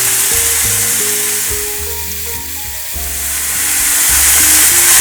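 Onion, salt, turmeric, paprika and paste fry loudly in a pan, a continuous close sizzle with stirring and no talk.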